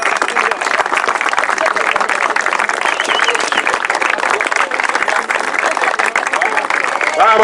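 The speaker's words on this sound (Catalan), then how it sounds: "Un fort aplaudiment." A crowd applauds steadily and loudly throughout at a saxophone tribute event in Catalonia, dense clapping filling the scene from start to finish.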